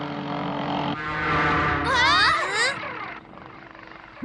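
A buzzing toy helicopter whirs with rising and falling pitch sweeps, fairly close, alongside background music and chatter.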